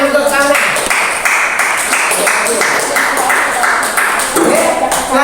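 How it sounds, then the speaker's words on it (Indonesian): A classroom audience at IAIN Pontianak claps steadily for a group, a dense continuous patter that fills the whole stretch at a loud, even level, with a faint ringing tone mixed in. "tepuk tangan untuk sana."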